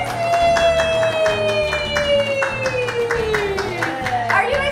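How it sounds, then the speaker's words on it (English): Several people clapping steadily for Jersey the cockatoo, a close, even rhythm of handclaps over a sustained tone, with a voice briefly cheering near the end. "Now clap for her."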